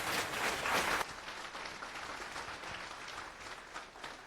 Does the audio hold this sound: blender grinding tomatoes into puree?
no